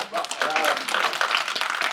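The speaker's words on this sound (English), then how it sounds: "You can clap for that." Audience clapping at a school briefing event, a short burst of steady applause close by with voices mixed in.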